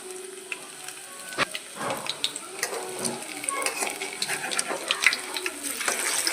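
Rolls fry in hot oil until brown, giving a steady close sizzle and bubbling with soft crackles and light clinks from the pan, and no one speaking.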